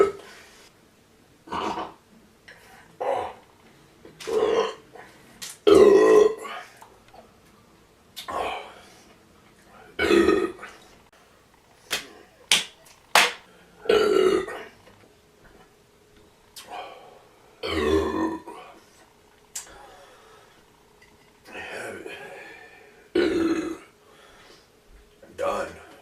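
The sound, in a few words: burping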